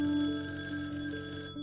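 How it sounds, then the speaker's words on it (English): A telephone rings in a 1977 call recording, one steady electronic ring tone that holds for well over a second before cutting off sharply, faint and alone with no talking. "The FBI released this creepy 1977 call from D'Angelo to one of his victims who survived his attack."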